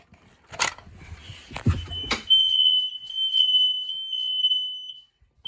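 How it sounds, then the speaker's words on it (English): A few sharp clunks and knocks give way to a shrill, continuous fire alarm tone that rings steadily for several seconds before cutting off. "pull the fire alarm"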